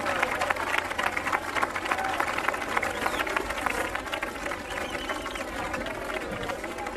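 A large crowd gathered in a harbour area at a 1989 strongman contest murmurs and cheers steadily in the background, a broad continuous roar sitting beneath a commentator's voice throughout.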